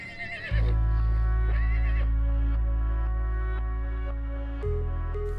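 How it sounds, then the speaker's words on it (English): Icelandic horse neighing loudly and close at a roundup in Iceland, a long shrill whinny that wavers and falls in pitch, followed by a second shorter whinny, with no talk. "Icelandic horses."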